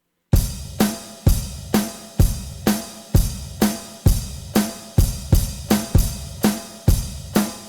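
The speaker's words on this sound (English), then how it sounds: "if I play the whole 4-bar chorus loop, it sounds like this" Drum kit playing a chorus loop, a steady pattern of punchy kick and snare hits with ringing cymbal wash, close and loud, repeating evenly for several bars with no voices.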